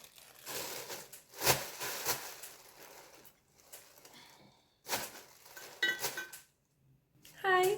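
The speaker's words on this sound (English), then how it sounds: "I'm gonna eat straight from the pot" Someone eating Indomie noodles straight from the pot: a few sharp metal utensil scrapes and clinks against the pot in separate bursts, with quiet pauses between them, close to the microphone.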